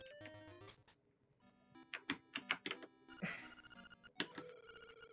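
A telephone ringing inside a phone booth in Zelda: Link's Awakening, bright chiptune-style tones and chiming bursts in an irregular game-sound sequence.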